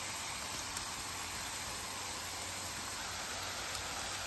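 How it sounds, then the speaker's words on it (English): Sausage and bacon sizzle on a Pit Boss griddle, giving a steady, even hiss that holds at a constant level throughout with no talking. "we're going to start cooking the sausage and bacon"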